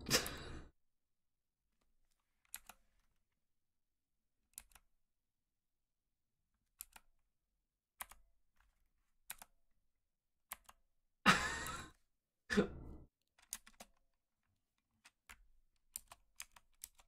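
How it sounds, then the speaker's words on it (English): Loud mechanical computer keyboard typed in sparse, irregular bursts of sharp clacks, with long quiet gaps between them. "16 minutes of mechanical keyboard."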